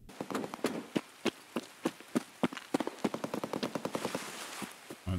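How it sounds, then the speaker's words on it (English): Rapid bursts of AK rifle and pistol gunfire in Escape From Tarkov, sharp cracks in quick succession, some single shots and some rapid strings, no talking. "You can hear an AK and a pistol."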